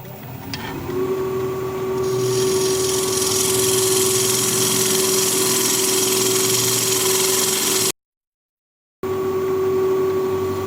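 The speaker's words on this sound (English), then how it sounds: "Let's try a swept back 1/2 inch bowl gouge here, just to cut out the bulk of it." A swept-back half-inch bowl gouge cuts a wooden blank on a lathe, a steady loud broadband shaving hiss over the motor's hum, broken by one abrupt second of silence before the cut resumes.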